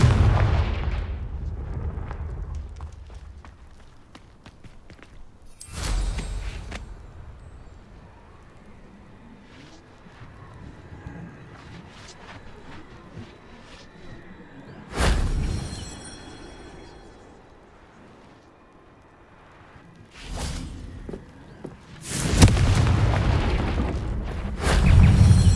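Fiery Confringo spell blasts boom in Hogwarts Legacy gameplay, several loud explosive bursts spaced seconds apart over a low rumbling game ambience.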